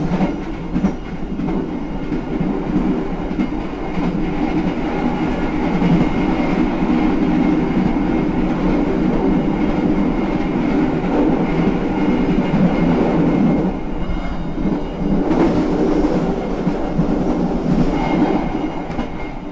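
Sritanjung passenger train rolling along the rails, a steady loud rumble with faint clickety-clack of the wheels throughout, heard from inside the carriage with no talk.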